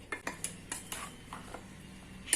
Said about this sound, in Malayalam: ഇനി ഇതെല്ലാം കൂടി നന്നായിട്ട് ഒന്ന് മിക്സ് ചെയ്യാം